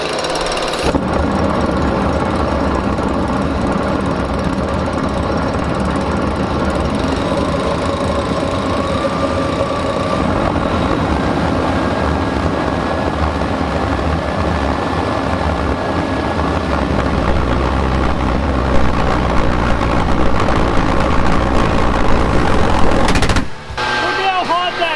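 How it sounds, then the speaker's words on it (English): A homemade jet engine fed by a leaf blower and propane roars loud and steady for about twenty-three seconds, a rough, pulsing blast with crackling bursts, then cuts off abruptly near the end. "I got to the point where I turned the leaf blower all the way up to full speed"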